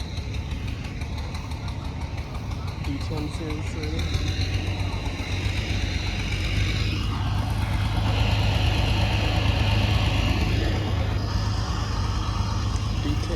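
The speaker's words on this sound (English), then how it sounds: "I just fired up that truck engine." A D10 series truck engine idles with a steady, close, low rumble and a faint vibration that holds throughout, while people talk over it.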